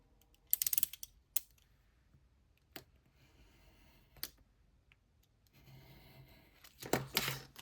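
Paper being snipped for a folio, with a few sharp close scissor cuts and crisp paper rustles spaced across several seconds, plus a louder burst of handling noise near the end, with no speech.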